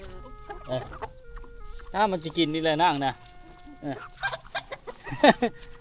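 Villagers' chickens cluck and squawk nearby in short bursts at a rural village, mixed with a person talking over them.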